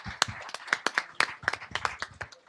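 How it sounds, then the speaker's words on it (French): Sparse, uneven clapping from a small audience at a startup pitch contest in Nantes, about a dozen distinct hand claps scattered across a couple of seconds without talk. "Merci Stéphanie, on peut l'applaudir."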